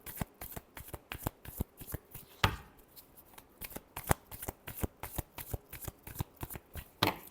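Tarot cards shuffled by hand in quick, crisp riffles and slaps, close and clear, repeating steadily with brief pauses between bursts.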